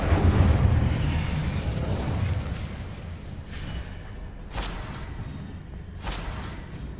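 An Incendio fire spell from Hogwarts Legacy erupts with a heavy low roar that gradually fades, followed by two sharp whooshing bursts a second or so apart, with no talk.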